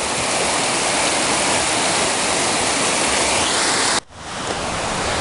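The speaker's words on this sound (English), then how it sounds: "you may have to actually walk through the creek here towards the falls" Naramata Creek rushes along near its falls as a loud, continuous broadband roar of flowing water close by. It cuts off sharply near the end and resumes a moment later.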